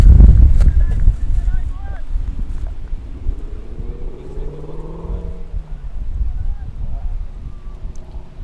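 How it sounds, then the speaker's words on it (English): Steady wind noise rumbles and buffets the microphone throughout at an outdoor cricket match, with distant activity underneath and no clear speech on top. "if you're hearing some wind in the background, ladies and gentlemen, that's how windy it is"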